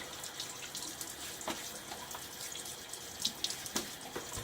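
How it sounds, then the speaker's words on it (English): Water runs and splashes from a tap into a sink as it is flicked onto a face, with a few sharper splashes and drips standing out near the end. "Let me just flick some water on my face."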